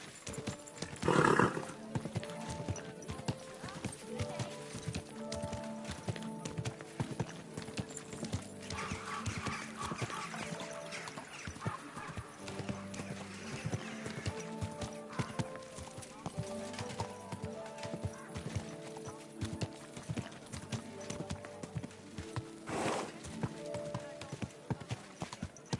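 Horse hooves clip-clopping on a road in the medieval video game Kingdom Come Deliverance II, a steady rhythmic trot running throughout with a couple of louder snorts or neighs, while voices speak over it at times.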